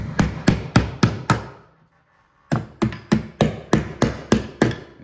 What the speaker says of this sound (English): You can hear a little click when you push it in.